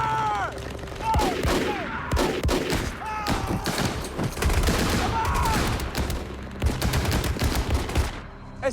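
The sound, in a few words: tank battle gunfire from the film Fury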